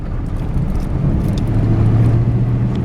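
A car driving along a rural road, a steady loud low engine and tyre rumble from inside the vehicle, with a faint rising engine whine partway through and no talking.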